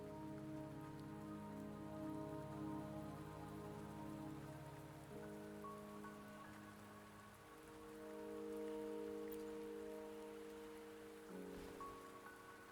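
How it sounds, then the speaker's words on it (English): Rain falls steadily in the video game Wuthering Waves, a soft, continuous patter under sustained droning music tones, with no speech. "The rain won't last much longer."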